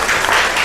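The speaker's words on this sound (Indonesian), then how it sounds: "Mari kita berikan tepuk tangan." A classroom of students claps together in a brief, dense burst of applause, steady and close throughout.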